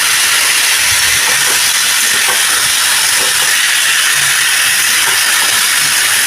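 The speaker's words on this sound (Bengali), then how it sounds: "আলু পেঁপেটা কিন্তু আমি ভালো করে ভেজে নিচ্ছি" Cubed potatoes and green papaya fry with ginger and curry leaves in a hot pan, giving a loud, dense, continuous close-up sizzle like rushing steam, steady throughout with no voices.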